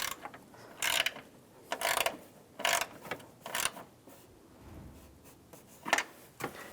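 Ratchet wrench snugging a nut onto a ground wire stud during EVAP core work on a 2007–2013 Chevrolet Silverado: short bursts of quick clicking, several separate strokes with brief pauses between, close and fairly quiet.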